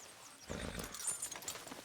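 Horse in the Red Dead Redemption 2 video game, a short burst of snorting and hoof movement starting midway through, fairly close, with no talk over it.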